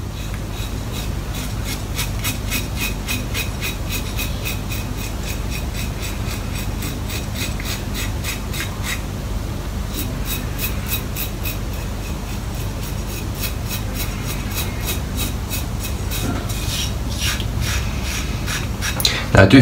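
Razorock MJ90 safety razor buffing across stubble during a wet shave, a rapid series of close, scratchy rasping strokes repeating steadily for most of the stretch, with a short pause midway.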